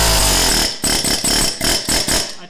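An impact gun hammers at a stuck drive pulley bolt on a Briggs and Stratton, Kohler or Kawasaki mower engine crankshaft, turned down. It fires loud, rattling bursts: one long run, then about five shorter pulses in quick succession.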